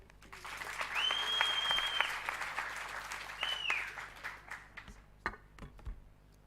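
Round of applause at a conference launch event, a moderate spread of clapping with a sustained electronic tone or feedback whine over it, thinning into scattered individual claps toward the end.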